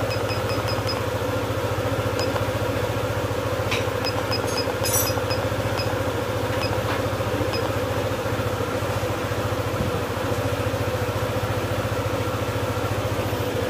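A Honda ADV150 scooter with a check-engine fault and misfire idles at a steady low rumble, a constant even engine drone with faint clicks on top and no speech.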